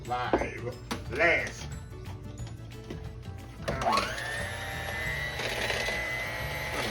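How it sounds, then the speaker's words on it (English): An electric hand mixer whirs in short bursts and then runs steadily, blending the flour mixture for a coconut custard pie in a bowl, with faint talk in the background. "Get the mixer here."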